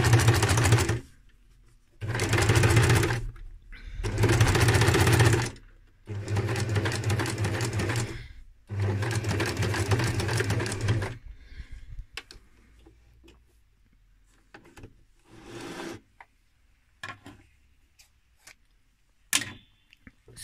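A domestic sewing machine with a walking foot stitches leather in four loud, steady runs of rapid close stitching, each a few seconds long with short gaps. Quieter scattered clicks and brief handling sounds follow.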